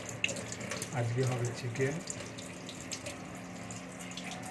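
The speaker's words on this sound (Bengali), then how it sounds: "চিকেন পরিষ্কার পরিচ্ছন্ন করে ধুয়ে নিচ্ছে চিকেনটা।" Chicken is rinsed under a running kitchen tap, with a steady splashing stream throughout. Someone speaks briefly over the water near the start.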